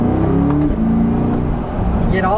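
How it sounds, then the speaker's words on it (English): A 2020 Corvette Convertible's exhaust drones steadily while driving on a winter road, with a loud continuous engine note and a brief rising rev near the end, under a speaking voice. "get all of that great exhaust noise, and it's a lot of fun"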